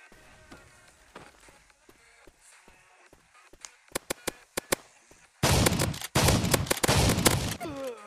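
Mk2 shotgun fire in a video game: a series of sharp, separate shots builds into a loud, dense barrage of blasts near the end.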